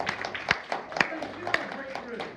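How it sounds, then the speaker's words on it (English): Applause from a small group at a GBAHS general meeting, a modest, uneven patter of clapping with a few sharper claps, fairly close, with voices murmuring beneath it. "give another round of applause for"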